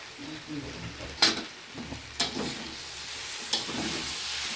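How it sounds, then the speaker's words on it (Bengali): Roasted mango pulp is stirred and sautéed in a sizzling pan with sugar. Three distinct scraping strokes of a spoon stand out over a continuous close frying hiss. "এই আমের পাল দিয়ে আবার একটু কষাবো"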